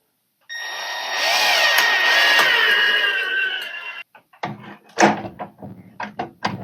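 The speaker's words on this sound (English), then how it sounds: "Drive in a couple screws and see if it shuts." A power drill drives a screw into an old 1940s bathroom door, heard as a close, loud, steady whir lasting a few seconds, then several sharp knocks and clatters of the door and tools.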